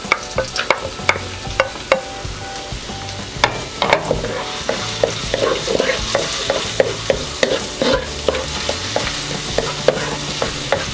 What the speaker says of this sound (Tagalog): Ngayon pong mainit na po yung ating mantika ay pwede na po nating igisa itong ating bawang.